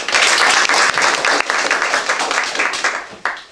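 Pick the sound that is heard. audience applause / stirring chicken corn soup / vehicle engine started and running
audience applause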